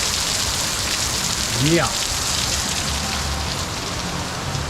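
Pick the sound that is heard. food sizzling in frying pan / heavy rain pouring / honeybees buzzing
heavy rain pouring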